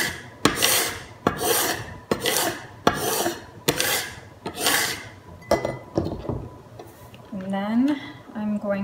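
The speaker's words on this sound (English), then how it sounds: "I'm going to take the scraper. And what I'm trying to do now is get the stencil to stick to the wood." Scraper rubbing a stencil down onto a wooden sign board in rapid, raspy back-and-forth strokes, close and fairly loud, ending with a person speaking briefly.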